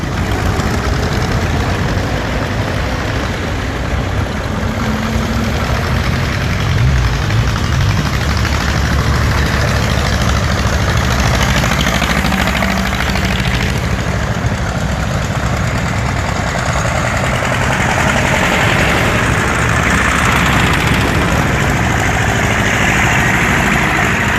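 Loud, continuous rumble of vintage tractor engines running close by at a rally start, with a steady chugging drone that swells slightly but never stops.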